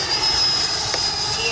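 An FMS Integral 80mm Sharky RC jet flies past with its ducted fan whining loud and steady, a high-pitched tone holding throughout, with a voice talking under it.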